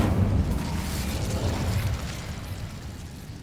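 Incendio fire spell cast in the video game Hogwarts Legacy: a loud, broad burst of fiery roaring that holds steady for a couple of seconds, then eases into a lower, sustained rumble.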